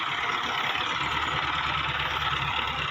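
An 85-model tractor engine runs steadily at idle in the open, a continuous low rumble and vibration throughout with no talk.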